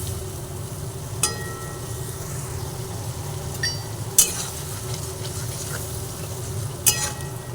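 Spices and vegetables for a light rui fish curry are stirred in a pan, a low steady simmering hiss with a few faint scrapes and clinks of a spoon, no speech.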